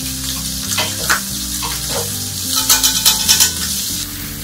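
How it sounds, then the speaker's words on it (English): Pork chops sizzle steadily in a pan while butter and anchovies are spooned over them, with a run of quick metallic spoon taps and scrapes against the pan near the end. "just wanted to spoon the butter over top of the pork chops to get some more flavor into them"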